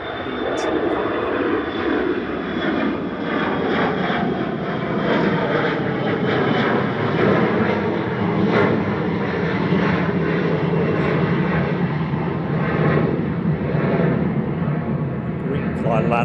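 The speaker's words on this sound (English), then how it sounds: "KLM 1038, heading back to Amsterdam" KLM flight 1038 departs Manchester Airport for Amsterdam, its jet roar steady and loud throughout, with a person's voice speaking briefly over the engine noise.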